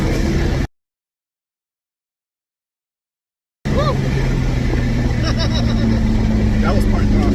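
A 1992 Dodge Stealth with a single turbo, heard from inside at part throttle as a steady engine drone that cuts to silence briefly and then resumes with turbo whistles, voices talking over it.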